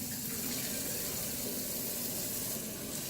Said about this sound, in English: Then let's wash our hands.